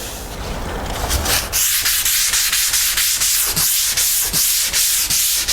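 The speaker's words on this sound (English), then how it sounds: "then you want to rub your hand across it" A hand rubs back and forth across freshly smoothed drywall mud over a taped crack, giving close, loud rhythmic scuffing strokes, about a dozen in quick regular succession after a longer opening sweep.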